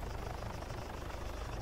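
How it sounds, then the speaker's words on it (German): Helicopter in the Altis Life game: a steady, continuous rotor thrum with a throbbing low-end chop, distant and fairly faint, with no talk over it. "Der Heli ist auf jeden Fall wieder hier."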